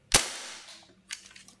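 One loud, snappy shot from a custom Hi-Capa airsoft pistol with a short decaying tail, then a quieter rattling clack about a second later.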